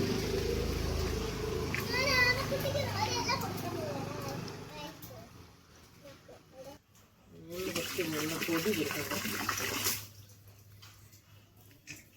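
Water rushes and splashes into a turtle tank during cleaning, heard under a person talking, with a voice at times. The flow fades midway, returns, then stops near the end.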